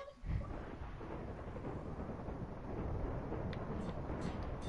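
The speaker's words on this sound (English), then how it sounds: "Yeah, I can hear all his thunder he's making." A creature in a Minecraft-style video game makes a low, rolling thunder rumble that is steady and broad, with a brief stronger crack at the start and faint clicks later.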